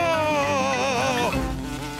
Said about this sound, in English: Daddy Pig has lost the wasp.